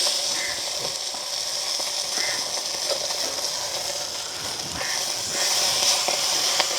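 Crushed garlic added to a hot pan in a village kitchen, producing a steady, close sizzle and hiss that holds throughout with faint clicks and no talk.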